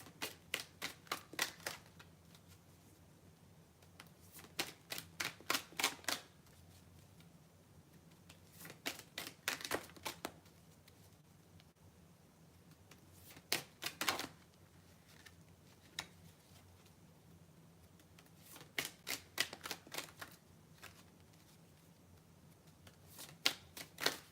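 Brisk riffle shuffles of a deck of tarot cards come in short rapid bursts, repeating every few seconds over a quiet, faintly humming room.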